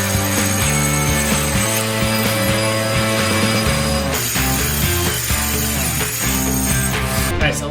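A Rotorazer compact saw spins at high speed through wood, making a loud continuous whirring, grinding cut with a harsh, rattling edge and a brief burst near the end.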